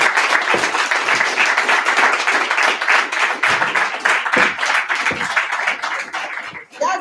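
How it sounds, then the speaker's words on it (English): A crowd claps loudly in sustained, dense applause for several seconds, close and continuous, with a few light chuckles mixed in before it briefly dips. "Y'all give her another round of applause."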